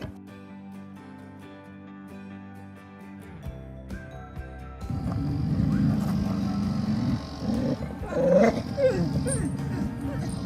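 An American Staffordshire Terrier growls and whimpers faintly at close range over a steady low hum, with some shuffling and movement partway through.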